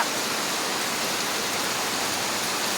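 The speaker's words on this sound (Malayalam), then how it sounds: "നല്ല പെരുമഴ" Heavy rain pours down in a dense, unbroken roar of noise, steady and loud throughout with no voices.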